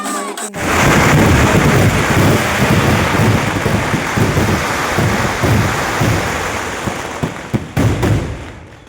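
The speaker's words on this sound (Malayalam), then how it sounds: "അത് കഴിഞ്ഞ് നമുക്കൊരു ചെറിയൊരു മഴയൊക്കെ ഉണ്ടായിരുന്നു." Rain falls steadily and loudly nearby, a dense continuous hiss with low rumbles of thunder underneath and a short quiet break near the end.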